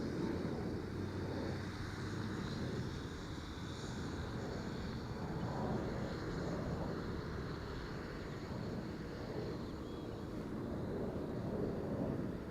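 A Mitsubishi CRJ900 airliner lands at Schiphol Airport, heard as a steady, broad engine roar with wind buffeting on the microphone, sustained at moderate distance for the whole stretch.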